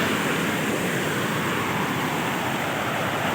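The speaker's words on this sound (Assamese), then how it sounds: "কিমান জোৰে সোঁত বৈ আছে।" A strong river current rushes past a boat on the clear water at Dawki, a dense, unbroken roar of flowing water at constant loudness.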